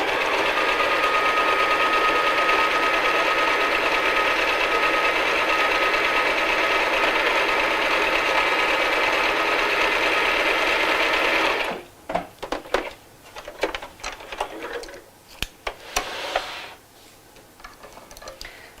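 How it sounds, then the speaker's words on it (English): A sewing machine runs steadily for about twelve seconds, stitching the second side of a child's first tote bag, then stops, leaving scattered clicks and handling noises. "sew along the second side"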